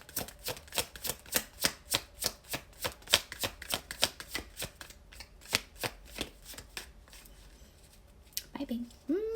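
Tarot cards are shuffled in rapid, rhythmic riffles, a crisp series of sharp bursts close up that slows and fades near the end, followed by a brief voice.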